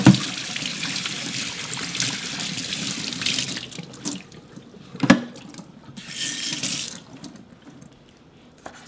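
Running tap water gushes into a sink while intestine for Korean soybean paste stew is rinsed under it, with splashes and a clunk midway before the flow tapers off.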